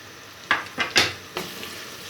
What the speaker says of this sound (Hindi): तो सबसे पहले हमने ये आलू लिए हैं और इसे हम फ्राई करेंगे